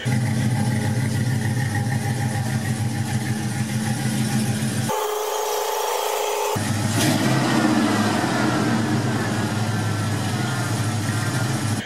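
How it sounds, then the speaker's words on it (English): A squarebody Chevrolet C10 pickup with an LS engine swap and Flowmaster Series 40 mufflers, a loud, steady, deep exhaust drone at idle, close up, with a brief cut in the low rumble midway before it returns. "they're just a series 40 Flowmasters, and man, they sound really, really good"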